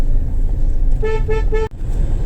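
A car horn sounds three quick honks in a row, loud and close, over engine and road noise from a vehicle driving through the town of Unnao.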